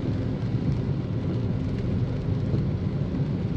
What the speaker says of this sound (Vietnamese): ngoài đường trời mưa bão như thế nào ha